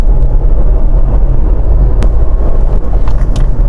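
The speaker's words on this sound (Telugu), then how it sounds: "ఇప్పుడు బండి స్టార్ట్ చేసి ముందుకెళ్ళి చూపిస్తాం మీకు ఏ విధంగా పనిచేస్తుందో" Steady, loud road and engine rumble from inside a Renault Kiger RXZ driving on a highway with a manual gearbox, with wind buffeting and a couple of brief clicks, no talking.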